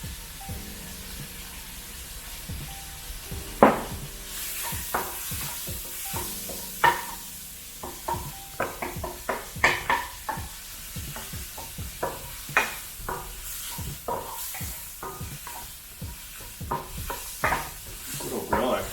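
Mapo tofu being stirred and sizzling on a small grill, with a steady frying hiss broken by frequent, irregular scrapes and clinks of a utensil against the pan.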